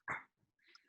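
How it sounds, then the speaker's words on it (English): A dog barks once, sharp and fairly close, at an outdoor high school commencement, followed by a soft whimpering tail and faint background sounds. "A dog wants to say hi."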